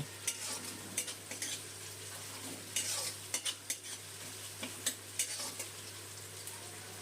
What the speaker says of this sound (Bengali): এর মধ্যে দিয়ে দিলাম একটা মিডিয়াম সাইজের পেঁয়াজ কুচি পেঁয়াজটা তেলের মধ্যে ভেজে নেব